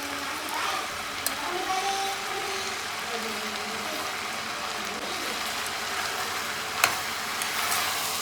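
Onion and tomato frying together in a pan for a home-style vegetable pulao, a continuous loud sizzle with a few sharp clinks and spatula scrapes, no talking.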